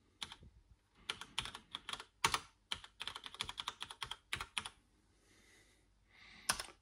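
Rapid bursts of key presses on a MEGA65 computer keyboard, clustered in quick irregular runs with short pauses, close and crisp, ending with one final isolated keystroke; no talking.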